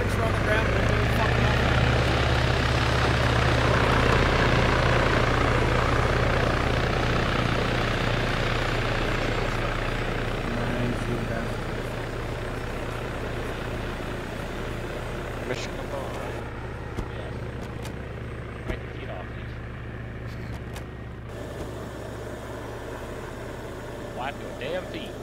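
Helicopters land in a military video game with a loud, steady rotor thrum and engine roar that slowly eases in intensity, while people talk over it.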